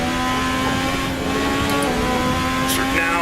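Wingless F1 car in Assetto Corsa held flat out in top gear, a loud, steady high-pitched engine whine with a tonal drone, continuous and close.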